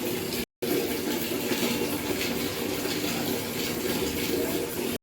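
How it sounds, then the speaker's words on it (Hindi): Water gushing steadily and loudly from a tap into a bucket, filling it for Sunday cleaning, a dense continuous rush with one brief cut near the start. "यहाँ पे संडे की सफाई के लिए पानी फिल कर दिया"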